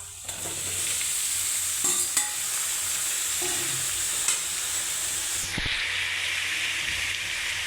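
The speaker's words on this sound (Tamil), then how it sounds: "வெங்காயம் வதங்கிடுச்சு இப்போ நம்ம தக்காளியை சேர்த்துக்கலாம்" Steady sizzling and hissing from tomatoes sautéing in a hot pan with softened onions, for tomato thokku, with a few clinks and stirring scrapes; a burst of steam hiss near the end.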